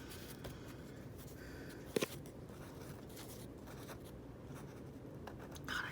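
A marker squeaks and scratches across a board in short quiet strokes, faint and close, with one brief louder tap partway through and no talking.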